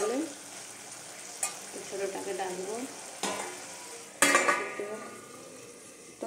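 Potatoes frying in a pan, a steady soft sizzle with occasional spoon scrapes and clinks of cookware, a brief spoken remark heard over it.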